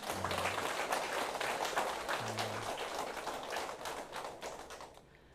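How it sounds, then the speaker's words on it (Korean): A church congregation at a prayer meeting claps together: a dense, fairly quiet patter of many hands that holds for several seconds, then gradually thins and fades out. "우리 박수 한번 쳐야 되겠죠?"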